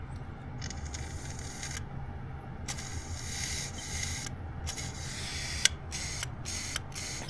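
Air blown through a Yamaha TW200 carburetor to check the floats gives a breathy, hissing rush in uneven bursts, close and moderately quiet, with a few small clicks and no talking.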